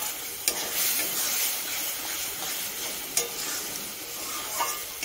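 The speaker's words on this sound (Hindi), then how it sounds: "इसे हम फ्राई कर ले रहे हैं।" Masala frying in a pan for egg curry, a steady close hiss and sizzle with a few sharp spoon scrapes as it is stirred, continuous and without talk.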